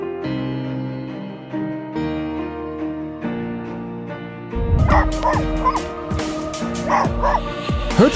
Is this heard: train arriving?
no